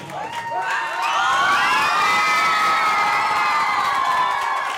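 Young song and dance festival participants roar, shriek and whoop at an evening event, a loud, sustained wave of high-pitched crowd cheering that swells after the first second, with scattered clapping underneath.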